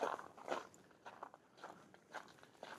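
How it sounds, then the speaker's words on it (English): Footsteps crunch on snow along a walkway around the Central Park reservoir, soft rhythmic crunches roughly every half second, close but faint, with no voices. "You probably hear the snow is still a little crunchy."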